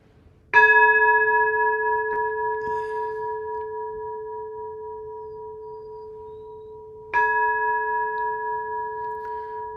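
An ancient temple bell is struck twice, about seven seconds apart, each strike ringing out with a clear sustained tone that slowly fades with a gentle pulsing shimmer in a quiet room.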